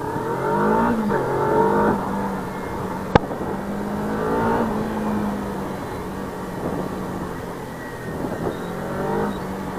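A Kawasaki Ninja 300 motorcycle accelerates with the throttle opened in rising and falling waves while weaving, its engine note climbing and dropping, close, with one sharp click partway through and no speech.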